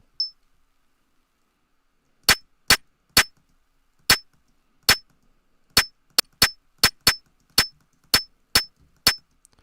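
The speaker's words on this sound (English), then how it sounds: "That's how you make that classic kind of high-pitched ringing snare." A synthesized high-pitched ringing snare drum, made by pitching a sound up about four octaves, hits as sharp metallic strikes in an uneven run of about fourteen hits after a faint early blip, each ringing briefly in silence.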